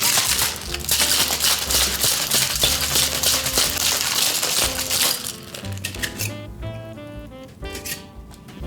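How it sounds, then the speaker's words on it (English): Ice rattling hard inside a cocktail shaker as a drink is shaken, a rapid dense clatter lasting about five seconds before it stops, followed by softer clinks and quieter handling sounds. "Let's grab some ice so we can shake this up."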